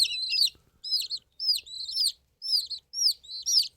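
Young chicks peep in quick bursts, several high chirping phrases separated by short pauses, close and clear with no talking.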